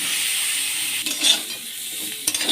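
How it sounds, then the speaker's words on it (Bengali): Cut cauliflower pieces fry in hot oil in a kadai, giving a loud, steady sizzle broken by a few stirring scrapes and utensil clinks against the pan. "এবার ওই তেলেই আমি কেটে রাখা ফুলকপিগুলো দিয়ে দিচ্ছি।"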